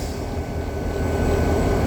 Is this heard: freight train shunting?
yes